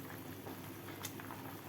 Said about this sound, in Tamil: சூப்பரான ஒரு வாசனையோட தலை கொதிக்குது பார்த்தீங்களா?